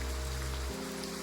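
Rain falling in the video game Love and Deepspace, a steady soft patter with no voices, while a low musical drone underneath shifts partway through the short stretch.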